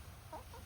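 Backyard chickens cluck softly in a short, faint burst of low clucks over quiet outdoor background noise, with no talk.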